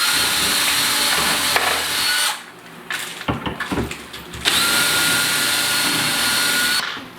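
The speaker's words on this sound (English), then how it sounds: "I've got a nice drilling jig here that I've got set up, and we drill the holes through." A power drill whines steadily at close range, drilling holes through a kitchen cabinet with a drilling jig, cuts out briefly amid clunks and handling noises, then starts up again and runs at a constant pitch.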